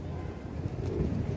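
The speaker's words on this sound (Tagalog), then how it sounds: "Ibon yata ito ni XMakina" A pigeon coos with soft, low, repeated calls over steady outdoor background noise, fairly close and continuous throughout.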